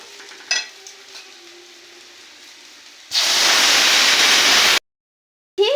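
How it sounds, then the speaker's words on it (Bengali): Water poured onto fried mung dal in a hot pot raises a sudden loud hiss and roar of steam that cuts off abruptly, after a quiet stretch with a faint clink and low hum. "এখন আমি দিয়ে দেব জল।"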